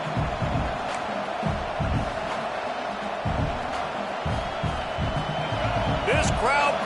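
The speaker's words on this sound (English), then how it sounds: "This crowd bringing the energy and noise early." College football stadium crowd at a Maryland game, a steady roar of many voices with rhythmic chanting swells, heard from up close in the stands beneath play-by-play commentary.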